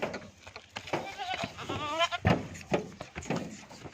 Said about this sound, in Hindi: ये 14 नंबर पर जा रही है, बकरे लोड करते हैं